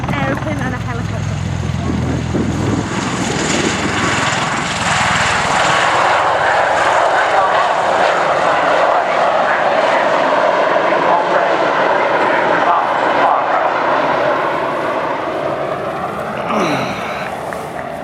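A US Marines MV-22 Osprey tiltrotor flies at the RIAT 2012 airshow, its loud, droning engine and rotor roar sustained throughout while spectators talk nearby.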